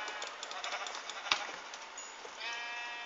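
Several Minecraft sheep bleat in quick, overlapping cries, thin and somewhat synthetic-sounding, with a soft click partway through.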